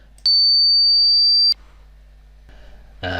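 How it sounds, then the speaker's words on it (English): A pure synthesized sine wave tone sounds steadily for just over a second, starting and stopping with sharp clicks, followed by faint noise and a brief burst of another sound. "I know you don't want to listen to 3 minutes of sine wave."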